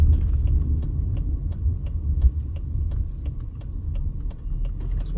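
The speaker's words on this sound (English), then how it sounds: "we'll wait for this truck." A truck rolls past on a street in Historic Westside Las Vegas, a steady low engine rumble with road noise, heard from nearby inside a vehicle, alongside a regular ticking sound.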